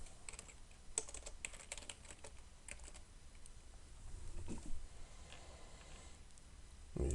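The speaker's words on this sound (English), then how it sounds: "Let me just type it right here." Close-miked typing on a computer keyboard, a steady patter of light key clicks with a few sharper taps and a brief louder flurry, with no voices.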